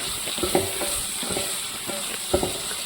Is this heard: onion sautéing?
yes